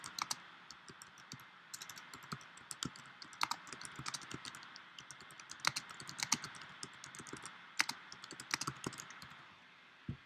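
Steady typing on a keyboard while a story is written in an app, with irregular close clicks and key taps running for about ten seconds at moderate level with no talk.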